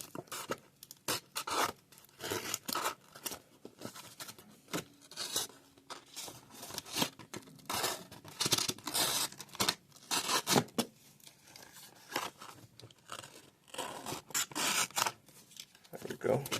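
Scissors snip repeatedly while trimming a hoverboard model, irregular close cuts and paper-like rustles, with a quiet voice between them.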